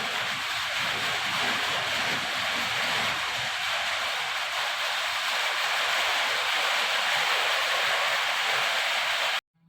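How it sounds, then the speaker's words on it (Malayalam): Rain drums on a metal sheet roof of a village home, a loud, steady hiss-like roar that fills the whole stretch without pause, no talking. "നമുക്കിവിടെ മൊത്തം ഷീറ്റ് ഇട്ടേക്കുന്നതുകൊണ്ടേ ചെറിയ മഴ പെയ്താലും വലിയ മഴയുടെ ശബ്ദമാണ് കേൾക്കുന്നത്"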